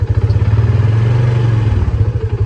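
A Polaris RZR 570 utility vehicle engine runs close by with a steady, throbbing low-pitched pulse as it backs slowly into a dark shed, holding a fairly even rhythm throughout.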